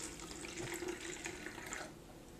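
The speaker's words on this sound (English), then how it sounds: "Then take apple cider vinegar, and you're just gonna pour" Apple cider vinegar poured briefly into a homemade fruit fly trap, giving a soft, close trickling splash that lasts about two seconds and then stops.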